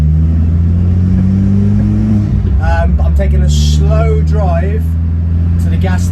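Car engine climbing through the gears with a steady low drone and rising harmonic sweeps on each shift, loud and close, with a person talking over it throughout.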